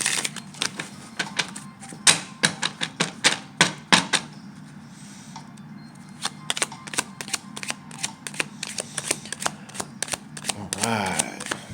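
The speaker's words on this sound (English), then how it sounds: "Let's do a shuffle." A deck of tarot cards is shuffled by hand in rapid riffling bursts and sharp clicks, close up, with pauses between runs and a brief flutter near the end.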